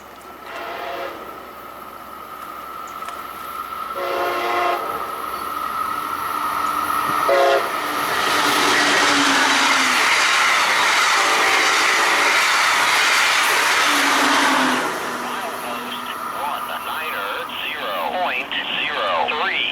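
A Brightline passenger train on the Florida East Coast line roars past nearby, sounding its horn in several blasts, with loud rumbling wheels that swell and then ease off.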